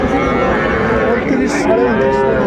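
Young bulls and calves at Aftabganj cattle market give a loud, close, drawn-out moo lasting about two seconds, with market hubbub in the background.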